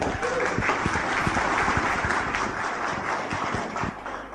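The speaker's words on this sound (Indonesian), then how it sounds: "Aplaus untuk Anda semuanya." An audience at an awards segment of a talk bursts into dense, sustained clapping that holds steady for a few seconds before starting to thin out.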